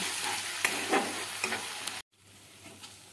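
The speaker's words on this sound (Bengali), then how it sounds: "পেঁয়াজটা আমার ভালোভাবে ভাজা হয়ে গেছে।" Close, steady sizzling of onion paste with spices frying over medium flame in a hot pan, with a few utensil scrapes, briefly cut off near the middle before the frying hiss resumes more quietly.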